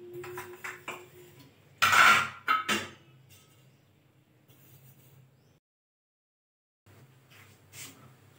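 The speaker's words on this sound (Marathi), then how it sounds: "सगळ्या भांड्याला छान तेल लावून मग इडली ठेवूया." Metal idli pots are greased with oil in a home kitchen, with sparse clinks and clatters of steel plates, one louder cluster of knocks, then quiet handling and a brief silence.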